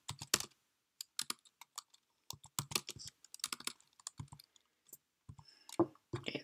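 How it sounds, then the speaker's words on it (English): Typing on a computer keyboard, heard close up as quick irregular bursts of clicking keystrokes with short pauses between them. "type in Xcode."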